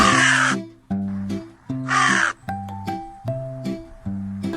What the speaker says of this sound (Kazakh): Қарға андай дыбыс шығарады?